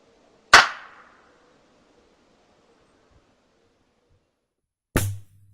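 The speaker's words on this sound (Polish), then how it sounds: "Powtórzymy taki sam strzał bez tłumika" Two loud, sharp unsuppressed gunshots several seconds apart, each a sudden crack that decays quickly into silence.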